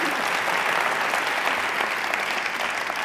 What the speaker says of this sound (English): we all owe Allie a round of applause